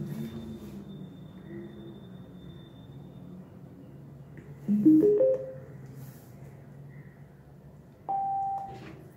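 A Mi Bluetooth Speaker Basic 2 powers on with a rising four-note chime followed a few seconds later by a single sustained pairing beep, close and clear over faint background hum.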